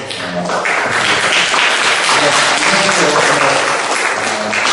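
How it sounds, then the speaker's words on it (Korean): An audience at a lecture on Korean diplomacy and Southeast Asia claps steadily and loudly, dense applause filling the whole stretch without pause. "큰 감사의 박수로"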